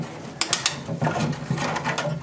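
A plastic wire tie ratchets tight around a washing machine hose: a quick run of three sharp clicks, then a softer, denser zipping rattle as the strap is pulled through, close and clear with no talk.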